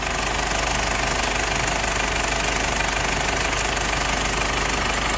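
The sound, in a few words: diesel car engine idling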